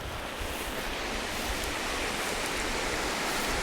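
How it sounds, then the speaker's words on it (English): River water flowing in a steady, unbroken broadband rush, close and fairly loud, with no voices over it. "I hear the river."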